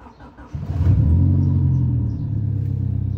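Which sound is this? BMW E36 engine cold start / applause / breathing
BMW E36 engine cold start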